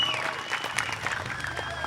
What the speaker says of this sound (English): How about a good round of applause for Adrian?